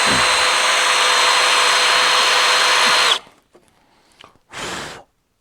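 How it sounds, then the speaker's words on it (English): A power drill drilling out rivets on a crash-damaged Toyota Hilux wing runs loud and continuous for three seconds, then stops; after a short pause it gives one more brief burst. "to drill these little beggars out, two of them, so I can screw my wing back on properly."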